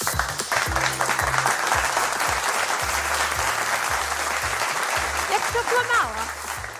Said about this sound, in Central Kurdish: چەپڵێک بۆ بینەرەکانمان کە ئیستا تەماشامانەکەن چەپڵێکیش بۆ ئەوان